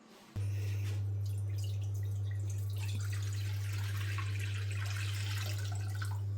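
Tap water pouring into a pot for pasta carbonara in a home kitchen, starting abruptly and running as a steady, close, continuous rush and splash with no speech.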